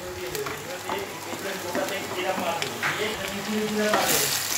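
Mashed roasted tomato hits a hot pan for an eggplant bharta and frying sizzles steadily, with stirring scrapes and a swell of hissing at the end, while someone talks over it.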